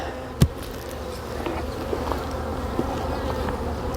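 Honeybees buzzing around a set of four hives on a double screen board, a steady close drone with a brief thump near the start and a few faint knocks.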